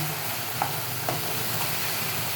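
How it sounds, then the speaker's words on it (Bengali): Shrimp filling for pointed gourd dolma stirred in a pan, with two soft scraping strokes of the spoon over a low, steady sizzle; no talking. "এবার এটা পুরোটা সুন্দর করে মিশিয়ে নেব"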